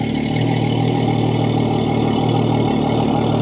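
A Yamaha F300 outboard engine runs steadily at a smooth idle, a continuous close mechanical hum with no voices.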